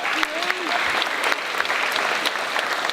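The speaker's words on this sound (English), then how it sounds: "Please give them an applause." Steady applause from an audience at a registration meeting, dense and continuous clapping with a faint voice briefly rising over it.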